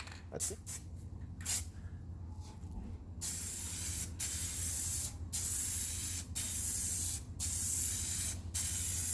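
Spray paint hissing from an aerosol can onto tailgate storage parts for an FZJ80 Land Cruiser, in several steady bursts separated by short pauses, close and fairly loud after a few quieter puffs at the start.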